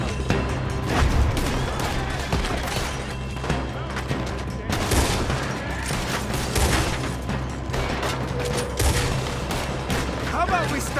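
Dense, continuous gunfire fills a Red Dead Redemption 2 shootout: overlapping rapid shots and bursts crack loudly with barely a pause, with mechanical clicks mixed in.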